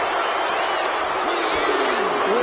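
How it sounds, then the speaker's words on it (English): Crowd in a WWE 2K25 wrestling match, a steady roar of arena cheering and whooping with a commentator's voice talking over it. "Listen to this crowd."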